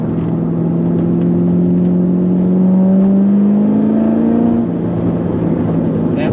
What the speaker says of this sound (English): So you can get a little bit of a taste of the tone of the exhaust.